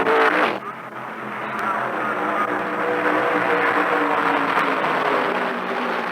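Stock cars at the 1975 Permatex 300, a NASCAR race, roar steadily past as a dense, continuous engine drone, loud and sustained, with a brief dip near the start.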